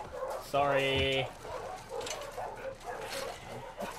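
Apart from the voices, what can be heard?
dog barking and whimpering in The Last of Us Part II video game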